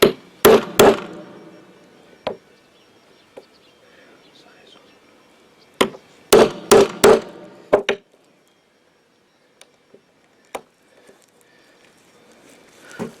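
A punch struck with a hammer to pierce lacing holes in the skin of a handmade shamanic frame drum, heard as sharp close knocks in two bursts of three to four blows, with lighter isolated taps between and after.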